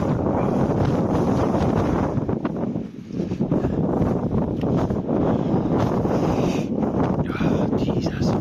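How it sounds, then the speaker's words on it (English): Strong wind buffets the microphone on a steep mountain trail on the Isle of Skye, a loud, continuous roaring rush with gusty swells and one brief lull. "The wind is hurtling up here."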